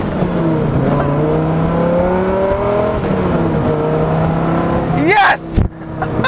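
A Dodge Viper RT-10 V10 engine rumbles at low revs, pitch rising and falling through gear changes, then revs sharply upward near the end; someone talks over it.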